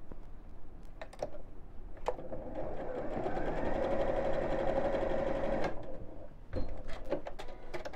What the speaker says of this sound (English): let me just sew around the bottom of here to close the hole over